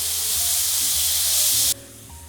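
Chopped onions frying in a pan to soften for a coconut chicken curry, a loud steady hiss that cuts off abruptly near the end, leaving a quiet background with no talking.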